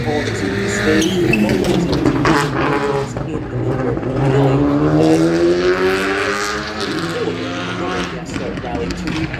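Rally cars race flat out through a forest stage at the Seniors event of the International McRae Rally Challenge 2025, with engines howling and revving loudly and continuously, tyres scrabbling on the surface, while a commentator talks over the action throughout.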